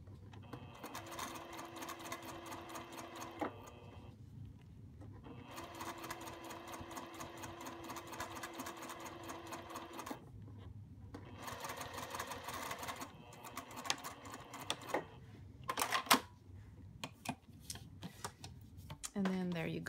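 A sewing machine stitches a bag connector in several long runs of steady, rapid mechanical whirring, broken by pauses and handling clicks, close by with a voice talking intermittently.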